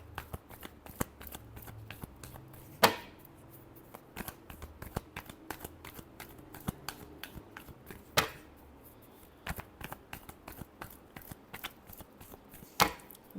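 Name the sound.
shuffling a deck of tarot cards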